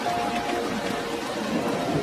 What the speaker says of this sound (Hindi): अचानक आसमान से बिन मौसमी बारिश शुरू हुई